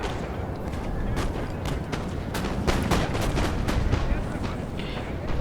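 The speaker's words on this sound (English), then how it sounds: "Now I'm pushing up for the final little volleys to be presented." Rolling musket volleys crackle through a Napoleon: Total War multiplayer battle on a pyramids map, dense overlapping gunshots and booms layered over a constant roar of battle noise, loud and continuous throughout.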